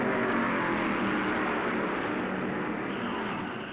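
Stock cars racing at the 1964 Darlington Southern 500: a steady, loud engine roar close by, fading slightly toward the end as the cars pass, with no talk.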